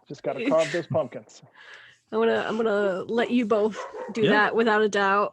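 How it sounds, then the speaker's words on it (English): Dogs bark and yip loudly indoors during a talk with a Halloween author, sharp repeated barks overlapping and alternating with someone speaking. "Sorry about the dogs, folks."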